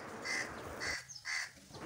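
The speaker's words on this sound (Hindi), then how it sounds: "तो यहाँ पे आपको कौवे के बोलने की आवाज़ें भी आ रही होंगी और चिड़ियों के भी।" Crows caw in three harsh, evenly spaced calls at moderate distance, with faint background bird chirps and no voices, heard outdoors near a home kitchen.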